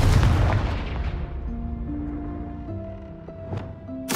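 A Confringo spell explosion in a Hogwarts video game: a loud, close boom with a long rumbling decay and ringing tones, followed by smaller pops and a final sharp burst.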